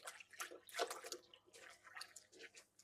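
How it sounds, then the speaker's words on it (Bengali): Water sloshes and splashes in irregular bursts as a 3D-printed fabric sofa cover is washed and wrung by hand, close and fairly soft with short drips between the strokes. "দেখেন আমি আরো একটা ডিজাইন আপনাদের ধুয়ে দেখাই"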